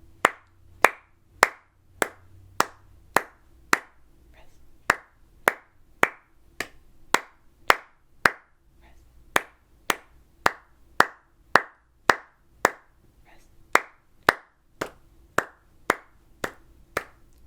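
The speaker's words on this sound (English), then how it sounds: "I'll do the clapping part" Hands clap out a steady rhythm part during flute practice, crisp sharp claps spaced in a measured pattern with occasional gaps like rests, close and clear over a quiet background.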